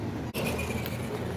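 A brushed 1/10 scale Arrma Granite 4x4 RC car at full throttle, a steady whining motor drone with a brief dropout near the start, then continuous loud running.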